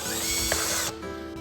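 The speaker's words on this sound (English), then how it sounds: "The pocket hole jig helps us drill at this weird angle." Power drill boring angled pocket holes through a pocket hole jig, a short, steady high whir that stops abruptly near the end.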